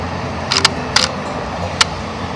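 Camera shutter fired at a sunrise bird shoot, giving a few sharp, close mechanical clicks over a low background hum.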